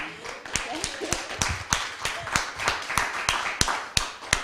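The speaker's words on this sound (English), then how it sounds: "So big applause to you all as well." A small group claps at the close of a conference forum, with individual hand claps standing out sharply over a thin, uneven patter of applause and some murmuring voices underneath.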